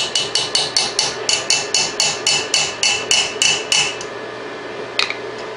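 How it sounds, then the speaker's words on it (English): A small hammer drives a bezel cup to flatten the head of a wire rivet in jewelry work, about sixteen quick, evenly spaced metallic taps followed by a pause and one last tap, close and clear. "that will be our driver, our hammer, that flattens the head on this rivet"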